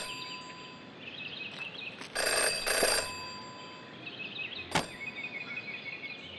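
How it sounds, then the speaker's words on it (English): A phone rings in the detective adventure game Jenny LeClue, with a short electronic ring burst followed by a brief sharp tone over a quiet ambient background. "never to ignore a ringing phone"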